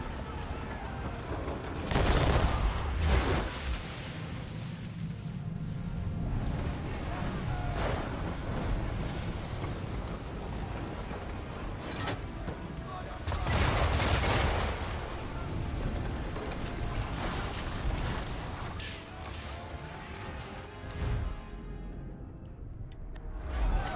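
Cannon fire from a sailing warship during a storm at sea in the game Assassin's Creed 3, heavy booming blasts recurring at intervals over a constant roar of wind and waves.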